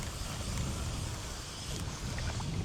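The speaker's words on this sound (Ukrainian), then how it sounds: "це вже страшенний вітрюган" Strong wind buffets a pond shore in a stormy gale, a steady broadband roar with low rumbling gusts, loud and continuous with no voices.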